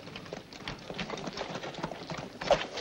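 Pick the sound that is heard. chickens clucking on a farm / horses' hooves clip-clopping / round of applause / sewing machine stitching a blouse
horses' hooves clip-clopping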